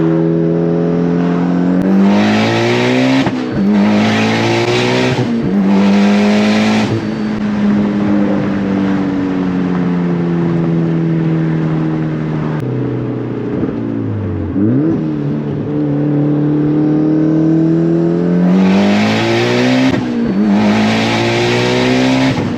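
A Mitsubishi Lancer Evolution X running E85 fuel accelerates hard in an onboard view, its engine climbing through repeated rising sweeps with gear-change dips, loud and close throughout with no talk.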